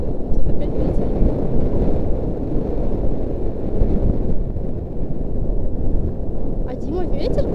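Loud, continuous low rumble of wind buffeting a microphone, steady throughout with no pause.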